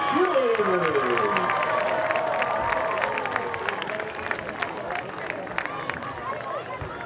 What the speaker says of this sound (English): One more round of applause for your Oregon Panthers cheerleaders.